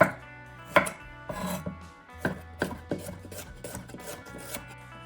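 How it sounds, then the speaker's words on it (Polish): Radish being sliced into rounds on a cutting board for a salad, a series of distinct close knife chops with an irregular rhythm and short gaps between cuts, no voices. "Teraz kroimy rzodkiewkę, też w talarki."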